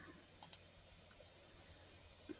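Two quick computer mouse clicks sound close together, followed by a faint third click a couple of seconds later, heard over near-silence while editing in Canva.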